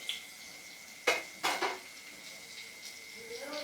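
Fish pieces drop into a pot of boiling fish curry with a few sharp clatters and splashes of metal and liquid, close by over a quiet simmer.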